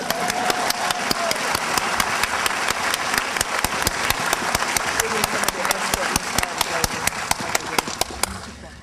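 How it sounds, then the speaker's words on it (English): Audience applause at a dedication ceremony, a broad crowd clapping with sharp individual claps standing out, steady for several seconds over a low engine-like hum before fading at the end. "Wait, big applause for them. Oh, we can clap for y'all now."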